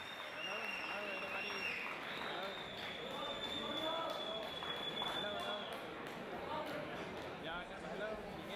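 A crowd at a Muay Thai fight event applauds and cheers the two fighters, a steady wash of clapping beneath an announcer speaking over a loudspeaker.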